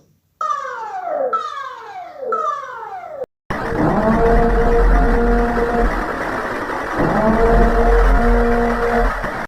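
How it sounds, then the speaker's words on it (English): Siren from the movie The Purge, starting with three sweeping descending wails and then giving way to a loud, sustained droning siren tone with layered steady pitches and a harsh noisy edge. "That is the siren from the Purge."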